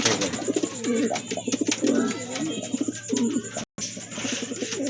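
Pigeons for sale coo in a steady series of soft, repeated calls, close and fairly loud, with a low constant hum underneath and a brief dropout near the end.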